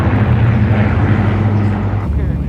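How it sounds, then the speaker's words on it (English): A Lancaster bomber and Supermarine Spitfires flying over in a flypast, a loud sustained low propeller-engine drone that holds steady, then eases off near the end. "followed by the Lancaster bomber and Supermarine Spitfires."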